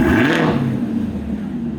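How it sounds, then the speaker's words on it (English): Chevrolet Camaro ZL1 V8 with a Borla ATAK exhaust in closed mode, a short muffled rev that settles into a low, steady rumble close by. "Give it a rev with it closed."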